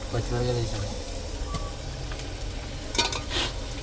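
Goat leg and head curry being stirred in a pan, with soft sizzling and scraping under a voice speaking Telugu, plus a few sharper clinks toward the end.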